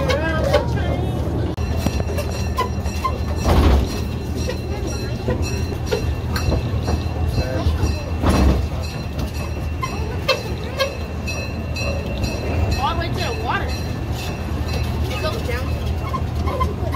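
A zoo train rumbles along the tracks with a low steady drone and rhythmic clatter, while people chat quietly in the background.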